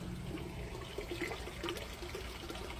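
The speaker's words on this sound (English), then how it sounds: "All that water's going to start coming out here in a minute" An aquaponics bell siphon in an outdoor grow bed drains with a soft, continuous trickle and gurgle, faint and fairly close, with small splashy bursts and no speech.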